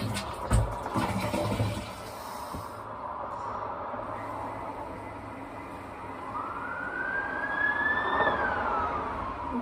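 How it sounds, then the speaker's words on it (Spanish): An ambulance siren wails in the distance, its tone rising and falling over a steady rumble of traffic, with a brief thump at the start. "Ya vinieron a arruinar el video con la puta ambulancia, el sonido este"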